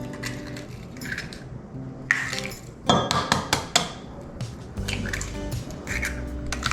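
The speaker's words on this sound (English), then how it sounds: "Alright, we're just gonna whisk that up." A whisk works through butter and eggs in a bowl, giving close, uneven clinks and scraping taps against the bowl, with a burst of quicker metallic strikes in the middle.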